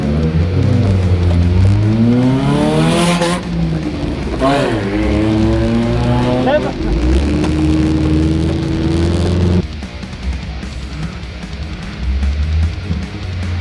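An enduro race car engine turns over and restarts, rising and falling revs in loud bursts close by, with voices talking over and around the engine noise.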